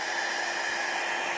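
Dryer blowing air over alcohol ink artwork, a steady close hiss of airflow with no breaks.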